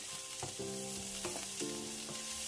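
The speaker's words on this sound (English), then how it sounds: "I will add the sliced onion, stir to fry." Steady sizzling of onions frying in hot oil, with a few soft clinks and scrapes of stirring, close up and continuous.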